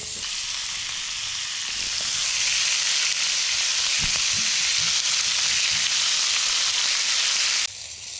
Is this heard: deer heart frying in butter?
yes